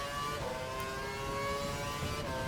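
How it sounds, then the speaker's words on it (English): Formula One car engines from the racing game F1 2012 held at maximum revs, a steady high-pitched whine with stacked harmonic tones, sustained and loud throughout with no speech. "you can hear the engines at maximum revs anyway"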